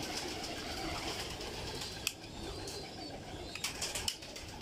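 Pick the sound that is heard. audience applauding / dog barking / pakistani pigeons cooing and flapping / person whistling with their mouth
pakistani pigeons cooing and flapping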